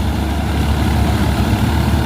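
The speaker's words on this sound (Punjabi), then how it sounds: "ਤੂੜੀ ਵਾਲੀ ਮਸ਼ੀਨ ਤੇ ਸਾਰਿਆਂ ਤੋਂ ਵੱਧ ਸਵਰਾਜ ਟਰੈਕਟਰ ਚੱਲਦਾ" A Swaraj 855 tractor engine drives a straw-chopping machine on a dusty farm, producing a loud, steady, continuous low drone with no pauses and no talking.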